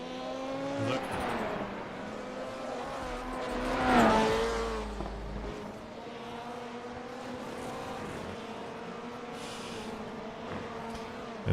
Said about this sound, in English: Kieran Lifflander having a little fun off the back. Just sliding the car.